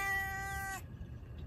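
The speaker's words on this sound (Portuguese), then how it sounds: "Gato que passeou, ganhou churu já, só que tá aqui miando" A house cat lets out a single drawn-out, tonal meow up close that cuts off sharply, followed by quiet room stillness.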